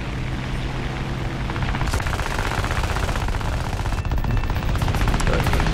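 Aircraft machine guns rattle in rapid, continuous bursts in War Thunder Air Arcade, flying the C.R.714, layered over a steady engine drone and dense throughout.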